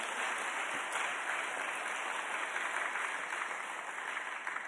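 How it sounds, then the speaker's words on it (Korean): Sustained applause from a church congregation at a Wednesday worship service, a dense, steady wash of many hands clapping at once that carries evenly through the whole stretch with no voices on top. "우리를 만나게 해서 하나님께 박수 한번 하겠습니다"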